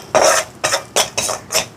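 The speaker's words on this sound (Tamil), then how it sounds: "கஜுவை கொஞ்சம் இந்த மாதிரி சின்ன வெட்டி வச்சுருக்கிறேன். இதை வந்து இந்த நெய்யில் வறுத்தெடுப்போம்." Small cut cashew pieces frying in hot ghee while being stirred, five short scraping rasps of a spoon against the pan in an uneven rhythm, close and fairly loud.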